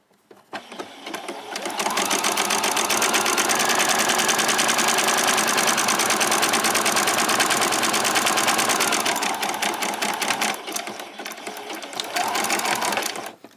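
Home sewing machine zigzag-stitching around the raw edges of summer shorts fabric, a loud steady motorized whir running nearly continuously for about eight seconds, slowing and stopping, then a short final burst.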